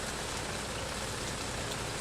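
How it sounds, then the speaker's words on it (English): Steady rain from the Stardew Valley video game on a Sunday morning, a dense, even hiss that holds constant throughout with no talk over it. "It's a rainy Sunday morning here in Stardew Valley."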